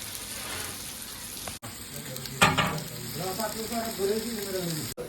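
Sliced onions and ginger frying in hot oil for biryani: a steady, loud sizzle throughout, with stirring scrapes and a brief sharper burst partway through, and no talking.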